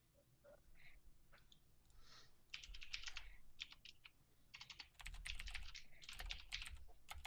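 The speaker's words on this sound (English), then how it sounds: "Everybody's typing." Several people typing on computer keyboards, with quiet clustered bursts of key clicks that grow busier and denser partway through, close but faint against a low background hum.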